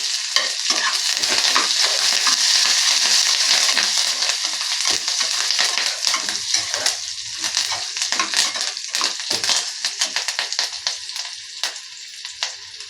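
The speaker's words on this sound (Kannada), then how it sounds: "ಕರಿಬೇವಿನ ಸೊಪ್ಪು ಹಾಕ್ತಾ ಇದ್ದೀನಿ." Curry leaves crackling in hot oil for rice upma, a loud, close, continuous sizzle with dense spitting pops and stirring scrapes that thin out and grow more broken toward the end.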